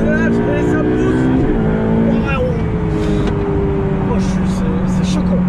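Ferrari 488 Pista or McLaren 600LT supercar accelerating hard with brief wheelspin, a loud continuous engine roar with rising pitch, close in the cabin, with a voice underneath.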